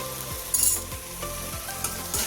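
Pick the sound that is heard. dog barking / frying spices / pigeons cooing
frying spices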